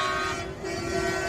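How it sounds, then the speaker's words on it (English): Vehicle horns from a trucker convoy heading out of California, a sustained blaring honk held steadily through the moment with only a brief dip, loud and close. "Oh, it's more honking."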